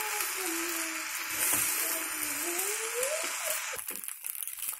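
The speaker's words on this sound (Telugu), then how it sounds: "ఇలాగా బాగా మిక్స్ చేయండి." Coriander rice being stirred and tossed in a hot pan, a steady sizzle and crackle of frying with soft scraping of the spoon, close and continuous, fading into rougher scraping near the end.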